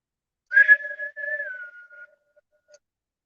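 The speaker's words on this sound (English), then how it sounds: "What if I did a whistle?" A person whistles a single sustained, slightly wavering note that drops in pitch near the end, heard close and alone in an otherwise silent room.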